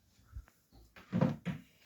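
A kitchen cupboard door with shelves inside bumps and creaks open, then closes with a couple of soft wooden thuds, close by in a quiet room.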